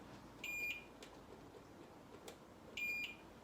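Two short, high electronic beeps from a kitchen timer being set during a batch of homemade soap, spaced a couple of seconds apart against a quiet room, with light clicks between them.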